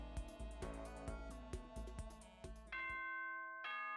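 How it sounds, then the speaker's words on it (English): A school announcement chime in the video game Danganronpa: Trigger Happy Havoc, a two-note ding-dong bell followed by sustained ringing tones, heard over busy game music that cuts out as the chime rings clearly. "This is a school announcement."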